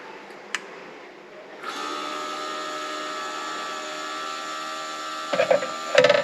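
An Oyster satellite dish with a failing rotation motor switches on: after a quiet stretch a steady electric whine starts and holds, then a few rough clunking bursts break through near the end.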